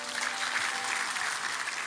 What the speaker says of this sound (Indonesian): Berikan tepuk tangan pada Tuhan.